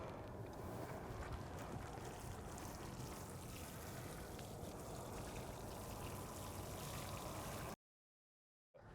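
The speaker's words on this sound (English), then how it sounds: "We're just going to water it into place." Water pours steadily onto soil around a newly planted tree, a continuous splashing rush that runs unbroken before cutting off abruptly near the end.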